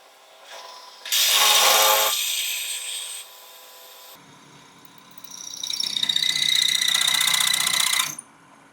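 A drill with a letter Q bit grinds into metal in two bursts, drilling a hole to be tapped 3/8-24, a high rasping whine with a short pause between, close and fairly loud.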